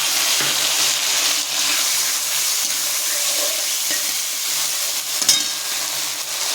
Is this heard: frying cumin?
yes